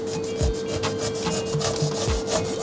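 A knife slices the tough skin off a pineapple standing on its base, peeling from the top down in repeated close, rasping strokes, each a short woody scrape in a steady rhythm.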